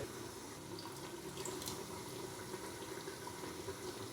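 Water poured from a small cup into a bowl of whisked yogurt while making beef curry, a soft steady trickle and splash over a low kitchen hum, faint and unbroken.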